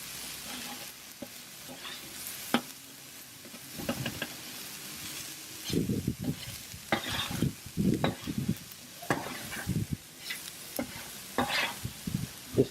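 Oyster mushrooms, onion and garlic frying in olive oil, a soft steady sizzle broken by irregular stirring clatters and scrapes, close and moderately quiet with no talking.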